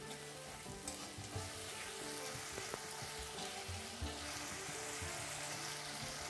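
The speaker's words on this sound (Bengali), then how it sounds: "এইভাবে আমি 1 মিনিট সমস্ত মশলাকে খুব ভালো করে কষিয়ে নেব।" Spices and tomato fry in a pan for a raw banana kofta curry, a loud, steady sizzle with scraping as a spoon stirs, close up and continuous without talking.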